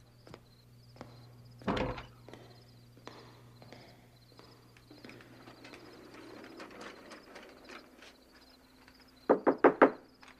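Knocks land on a bedroom door: a heavy thump early on, scattered quieter taps and rustling through the middle, then a crisp burst of four loud, evenly spaced raps close by at the end, with no talking.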